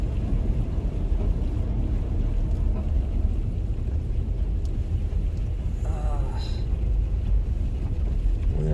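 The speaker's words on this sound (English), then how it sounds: "you can hear the wind roaring." Wind roaring outside a car while chasing a winter storm in southeastern North Carolina, a steady, loud, broadband rush with low rumble that continues unbroken throughout.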